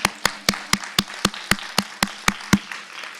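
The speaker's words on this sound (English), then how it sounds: "Give him a round of applause" A single person claps about a dozen times in a steady rhythm at a college event, the claps sharp and close with no crowd joining in or talk over them.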